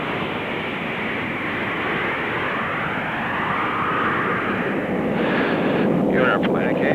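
Space shuttle orbiter flying with its tail cone off during the approach and landing free-flight tests: a steady, loud broadband jet-like roar holds throughout, swelling slightly toward the end.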